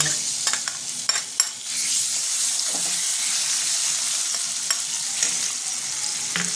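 Ground paste of green chilli, ginger, cashew and coconut sizzles and fries in a pan with potatoes, a steady hiss with scattered stirring clicks and scrapes, close and alone.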